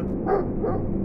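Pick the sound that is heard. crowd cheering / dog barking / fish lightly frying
dog barking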